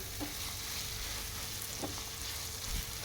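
Ridge gourd fry with coriander powder sizzling in a pan, a continuous close hiss with a few soft stirring scrapes and small pops, no talking.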